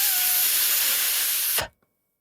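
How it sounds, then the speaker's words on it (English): A steady, airy hiss of breath pushed out through pursed, V-shaped lips as a semi-occlusion exercise, loud and close for about a second and a half before cutting off abruptly into silence. "breathe out through the V shape of your lips to make a sound a bit like this."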